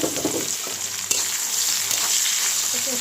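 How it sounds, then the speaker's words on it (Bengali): Onions fry in hot oil in a pan with bay leaf, cardamom and cinnamon, a continuous loud sizzle with occasional stirring scrapes. "একটু হালকা ভেজে নিব"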